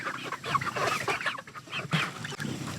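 Free-range chickens clucking around a feeder, several birds making close, busy overlapping clucks and murmurs.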